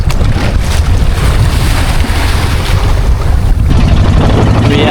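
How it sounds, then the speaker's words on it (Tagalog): Strong wind at sea buffeting a small fishing boat on its way home, a steady loud roar of gusts and water rush close to the microphone throughout. "Dahil mahangin na oh. Hangin na naman."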